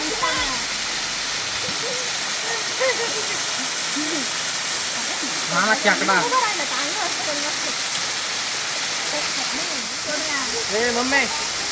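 Constant rushing roar of a waterfall fills the scene, with people chatting intermittently over the steady wash of falling water.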